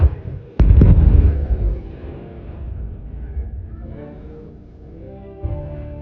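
A sudden loud blast followed by a second boom, then a long rumbling roar that fades, with another deep thud near the end, as explosions strike a chemical plant in Bryansk at night.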